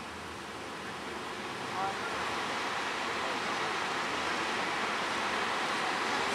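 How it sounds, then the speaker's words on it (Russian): Steady wind on the coast at Koh Lanta, Thailand, a broad continuous rushing roar that buffets the microphone, loud and unbroken throughout. "Ветер."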